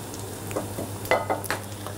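Cèpes mushrooms going into a pan with shallots softened in butter, a soft steady sizzle with a few scattered clicks and stirring taps close by.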